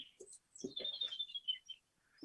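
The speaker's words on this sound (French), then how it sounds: "J'entends les oiseaux." Birds chirp faintly outside, heard from indoors, with scattered high tweets and short calls over a quiet room.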